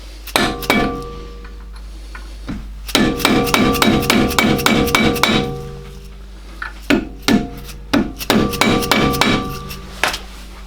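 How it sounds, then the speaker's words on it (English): A hammer stakes down the axle nut on an Alfa Romeo 156 in quick bursts of sharp metallic strikes, close and loud, with a lone tap and short pauses between runs of rapid blows over a low steady hum. "we just need to stake down the nut on both sides"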